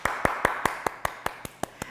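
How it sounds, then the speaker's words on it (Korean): Children clap after a kindergarten worship service, about ten evenly spaced sharp claps in a steady rhythm, close and fairly quiet over low room noise. "박수 쳐줘야지."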